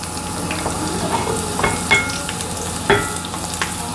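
Mustard seeds, cumin and crushed garlic splutter in hot oil for a tempering, a steady frying sizzle dotted with sharp pops and crackles, close and fairly loud.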